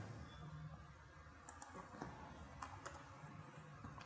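Soft, scattered keystrokes on a computer keyboard while coding a Python list example, irregular clicks over a quiet room hum, close and faint.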